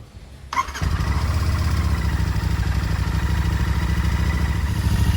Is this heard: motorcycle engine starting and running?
yes